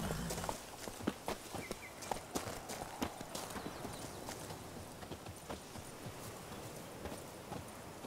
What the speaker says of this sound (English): Whoa there, Roach. We'll continue on foot.